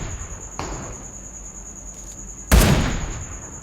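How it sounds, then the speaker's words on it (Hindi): Sniper rifle fire from the AMR in the mobile game PUBG Mobile: a softer shot, then a much louder, close, sharp crack about two seconds later that rings out and decays, with no talk. "इसको भी 2 बॉडी शॉट लगते हैं"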